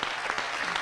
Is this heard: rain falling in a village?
no